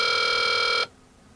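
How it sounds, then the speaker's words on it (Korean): A Samsung Omnia smartphone gives a steady electronic ring while redialing as a video call. The single tone holds loud and even for under a second, then cuts off abruptly into near silence. "이때 연결을 누르시면 걸었던 일반 전화가 끊어지면서 영상 통화로"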